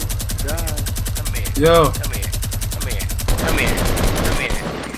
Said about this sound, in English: I'm on the minigun